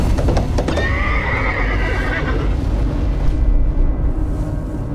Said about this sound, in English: The horse is dying